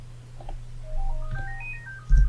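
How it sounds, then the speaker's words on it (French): A telephone ringtone plays a short rising and falling melodic pattern of clear electronic tones, moderately quiet, with a soft thump at the end and no talk. "Ah, le téléphone sonne."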